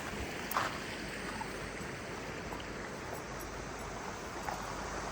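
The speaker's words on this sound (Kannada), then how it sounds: "ನೀರು ಹರಿತಾ ಇತ್ತಿಲ್ಲೇ ಸೌಂಡ್ ಕೇಳಿಸ್ತಿದ್ಯಾ" A steady, even rush of water flowing in an outdoor stream, continuous and fairly close, with no voices.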